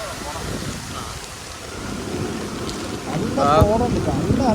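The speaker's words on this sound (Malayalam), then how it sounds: "ഇതാ മഴ സ്ട്രോങ് ആയിട്ടുണ്ട്" Heavy rain falling at Nelliyampathy in Palakkad, a dense continuous wash of noise that swells louder toward the end, with people talking over it.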